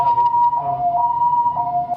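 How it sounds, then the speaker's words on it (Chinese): An ambulance siren on a street in Nantou, Taiwan, during heavy rain, a loud close two-tone wail alternating steadily between pitches with no voices. "救护车赶到现场"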